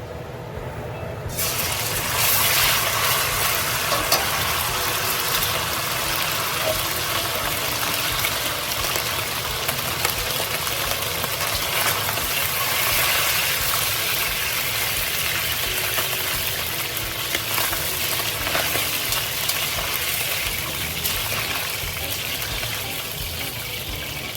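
Velveted pork for Moo Shu pork hitting hot oil sets off a loud, steady, broadband sizzle that begins abruptly and roars on evenly for the whole stretch with no talk.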